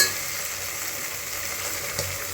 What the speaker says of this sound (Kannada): ಇವಾಗ ಈರುಳ್ಳಿ ಬಟಾಣಿ ಎಲ್ಲ ಚೆನ್ನಾಗಿ ಫ್ರೈ ಆಗಿದೆ.